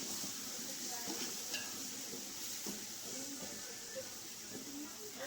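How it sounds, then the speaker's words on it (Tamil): Biryani masala sautéing in a pan for mutton biryani, a steady sizzle with scraping stirring strokes, while a person talks over the cooking. "இப்போ நல்லா வதக்கி விட்டுக்கோங்க."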